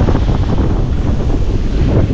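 Strong wind buffets the microphone outdoors on a coast, a loud, steady broadband roar with constant gusting rumble throughout.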